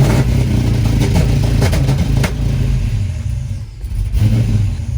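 Chevy S10 pickup with a 5.3L V8 held on a two-step launch limiter near 2,500 rpm, a loud close, steady stuttering rev with crackling pulses, briefly dipping before surging again.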